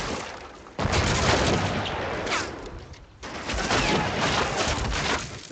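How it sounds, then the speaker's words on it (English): Video game gunfire on the Lumber map as an SMG soldier trades shots with a rifleman: two loud, dense bursts of rapid firing, the first running about two and a half seconds, then a brief lull before a second sustained volley. "there is a little skirmish here between an SMG guy and"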